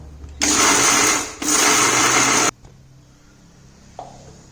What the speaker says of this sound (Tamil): நம்ம வதக்கினது எல்லாத்தையும் மிக்சியில் போட்டு ஒரு சின்னதாக லைட் போதும், ரொம்ப அரைக்க வேணாம்